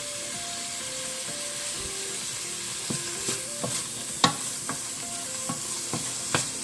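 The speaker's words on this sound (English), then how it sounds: "we're just gonna cook these green onions" Green onions sauté in a pan with a continuous close sizzle, broken by scattered clacks and scrapes from stirring, while faint tonal sounds carry on softly in the background.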